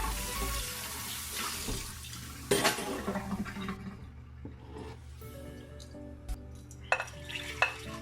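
A bowl is rinsed under a running kitchen tap, a steady close splash of water that then stops, followed by a few sharp clinks of the bowl and dishes in the sink. No one talks.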